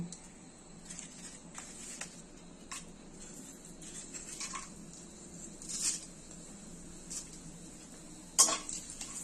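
Whole spices — bay leaf, dried red chilli, cumin, cloves and cinnamon — sizzle gently in ghee and oil, with soft intermittent scrapes and clinks of a spoon stirring the pan.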